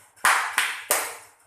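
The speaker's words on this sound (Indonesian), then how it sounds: "Kalau kau senang hati, tepuk tangan." Children clap their hands three times in a steady rhythm during a sing-along song, each clap sharp, close and loud, with no talking.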